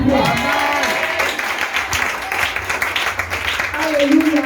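A congregation applauds and cheers throughout, a dense wash of clapping and shouts with voices calling out over it.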